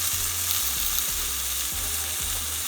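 Bacon frying in the bottom of a non-stick pot, a loud, dense, steady sizzle up close with a faint low periodic hum underneath.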